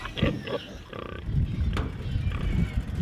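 Pigs on a farm grunt and squeal in short, irregular bursts at close range, mixed with rustling and shuffling in the pen.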